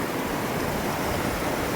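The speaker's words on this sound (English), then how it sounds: "this beautiful Scottish river." A Scottish river on the Isle of Skye flowing, a dense, continuous rushing wash of water heard close and steady, with no talk.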